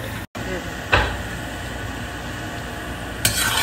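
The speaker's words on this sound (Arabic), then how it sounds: "نقلي الجزر شوية عشان يجي لونه في السمن" Carrots fry in ghee for Uzbek pilaf, a steady close sizzling hiss broken by two brief clattering stirs.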